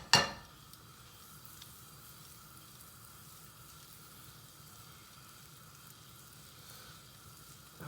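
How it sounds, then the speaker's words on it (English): Butter melting in a hot frying pan for a soufflé omelette gives a faint, steady sizzle that runs evenly throughout after a brief clatter at the start. "now I'm going to melt down about a tablespoon of butter, this time just to coat the pan"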